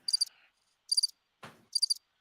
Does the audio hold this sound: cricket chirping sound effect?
yes